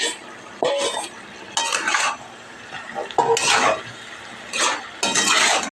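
Fried pumpkin, potato and shrimp are tipped into a pot of cooked Malabar spinach, giving several close bursts of clattering and scraping against the metal pot, separated by quieter pauses.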